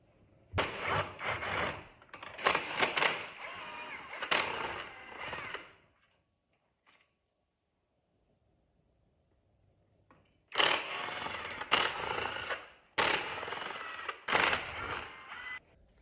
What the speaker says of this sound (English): We'll go ahead and get this clutch cover off real quick.